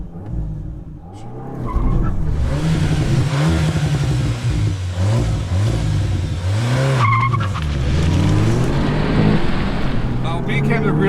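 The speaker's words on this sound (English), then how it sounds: "so I know he's okay with me clutch dumping it like that" Manual VW MK7.5 GTI on an IE Stage 2 exhaust launching hard after a clutch dump, the engine revving and pulling through rising and falling pitch with some tire noise, loud and close.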